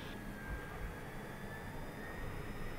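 Pilatus PC-12NG single-engine turboprop rolling down the runway on its takeoff run, a steady loud engine roar with a faint high whine running through it, continuous with no voices.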